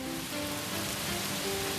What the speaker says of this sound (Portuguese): Vamos escutar o barulho da chuva?